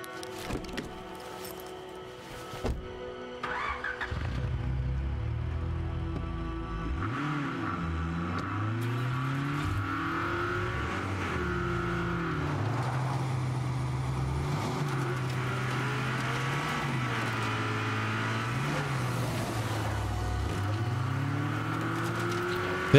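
A car engine in State of Decay 2 drones and revs steadily from about the fifth second onward, pitch rising and falling with gear shifts, loud and continuous after a few quieter opening seconds.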